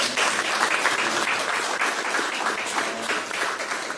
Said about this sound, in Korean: 이럴 때 박수 한번 쳐주시면.